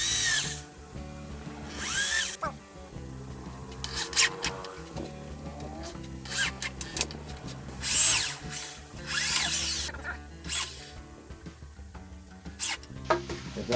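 A power drill drives wood screws into timber while building a raised garden bed, its motor whirring in repeated bursts of varying length with short pauses between, close and fairly loud, with no voices.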